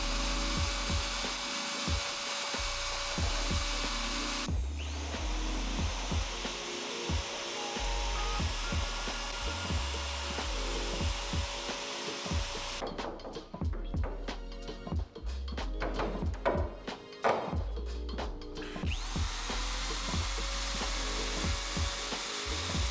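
A power tool cuts into the body of an S13 240sx to make room for hood pins, a loud, continuous grinding whine with brief pauses and shifts in pitch, with no talking.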